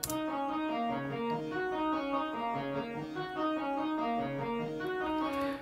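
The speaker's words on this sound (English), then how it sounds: "that's just the sound of the early reflections" A sustained, wet, smeared musical tone with repeating pitched notes blurred by dense short early reflections from an Ableton Live reverb effect, steady and moderately loud throughout, no voices.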